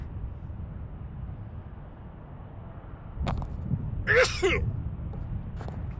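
A single loud, close sneeze bursts out over quiet background hiss while plane spotting at Denver International Airport, preceded by a short sharp intake and followed by a faint click.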